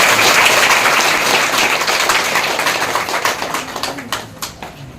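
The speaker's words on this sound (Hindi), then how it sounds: "ताली बजाकर इनका स्वागत" A crowd claps loudly to welcome a woman serving as symbolic inspector at Bhadohi police station, the dense applause gradually thinning out into scattered claps.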